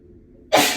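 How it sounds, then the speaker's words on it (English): A single sharp sneeze bursts out after near silence, loud and close, from a woman applying mascara while getting ready. "Nothing worse than sneezing when you just put mascara on."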